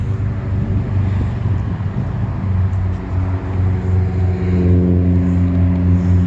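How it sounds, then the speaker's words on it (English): Airplane passing overhead near a cemetery in Colchester, Vermont, a loud, steady engine drone with layered low tones that holds throughout and slowly shifts pitch, heard alone with no talking. "oh, another plane. I know it's pretty loud."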